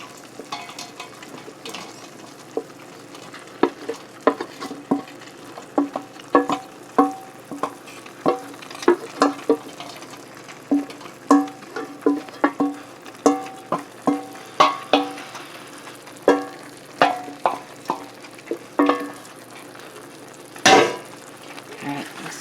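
Pasta and corn are stirred in a hot pan, a soft sizzle under repeated sharp scrapes and knocks of the spoon against the pan in an uneven rhythm, close up and without speech.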